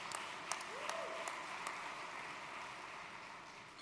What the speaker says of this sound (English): Yes, please, round of applause.